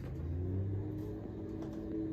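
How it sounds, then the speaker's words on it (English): Aircraft engine starting up and idling in a flight simulator game, a low steady rumbling hum with a slight rise in pitch, continuous and close with no talk. "go ahead and prime, full throttle, and bring that back down, go to boost, open 1/4 inch, start. Our aircraft starts very easily."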